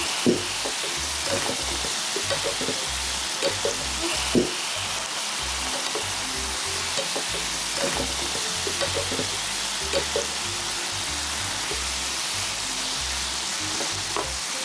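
Soy sauce marinade sizzling loudly in a pan with pork belly and garlic, a steady dense frying hiss with occasional sharper pops and stirring clatter throughout, close and alone without talk.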